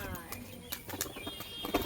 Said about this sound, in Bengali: হেভি বাজি পায়রাটার